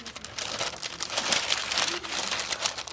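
Newspaper crumpled and wrapped around a ball of clay, a steady close crinkling and rustling that runs continuously throughout with no talk over it.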